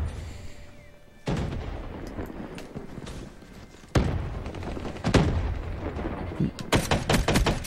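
Sharp bursts of video game gunfire in Call of Duty: Black Ops 3 multiplayer on Xbox 360 crack out in rapid clusters, some single shots and some quick volleys, loud and close.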